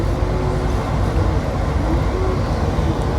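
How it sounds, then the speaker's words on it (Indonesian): A KRL CRRC electric commuter train passes near Jatinegara station, heard from aboard another train as a loud, steady low rumble and wheel roar with faint squealing tones, and no talking. "Sini kita papasan sama KRL CRRC."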